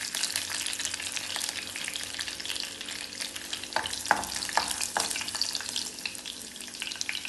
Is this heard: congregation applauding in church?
no